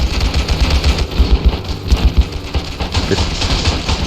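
Machine gun fire rattles steadily through a loud WWI trench battle in the game Ravenfield. Dense, rapid low thumps run continuously beneath a busy wash of battlefield noise.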